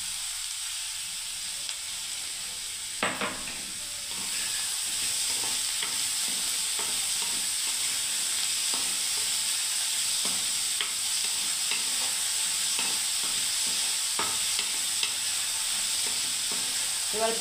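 Whole green moong dal is stir-fried in a pan, with a continuous close sizzle and repeated scraping stirs, faint at first and then steady and moderately loud.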